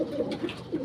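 Desi flying pigeons for sale in Bareilly, Uttar Pradesh, give a few short, soft coos close by, in quick succession within a brief moment.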